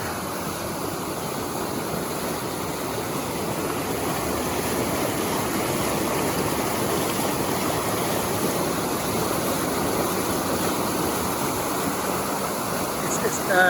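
River water flows in a steady, broadband rush close by, an even roar of current that barely changes throughout, with no clear voices over it.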